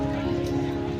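Monsoon rain falls on the Banbha hills near Surat, a brief, steady, dense patter heard close and fairly loud.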